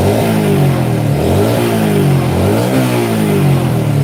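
A motorcycle engine is revved with the throttle during work on its full-wave electrical setup. It is loud and close, rising and falling through several smooth revs over a constant engine drone, with no voices.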